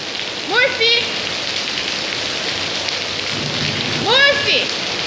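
Heavy rain pours steadily onto a garden in a thunderstorm, a loud constant hiss throughout, while a person calls out twice and small dogs are nearby.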